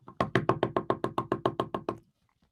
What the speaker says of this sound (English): There would be loads of knocking at her door